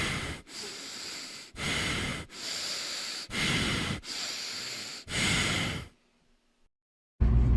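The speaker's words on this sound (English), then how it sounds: "You're sniffing my feet for like minutes straight" A Shiba Inu sniffs at feet in six long, loud, rapid snuffling bursts close to the ear, each followed by a short pause, then a brief silence.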